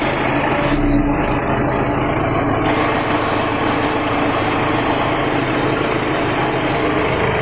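A new MTZ tractor's engine runs at a steady, loud idle with a continuous throbbing drone close by, no voices over it.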